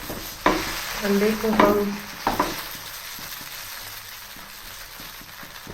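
Rice noodles stir-fried with egg for Pad Thai in a pan, a sizzling hiss with a few scraping stirs up close, under a short stretch of talk early on.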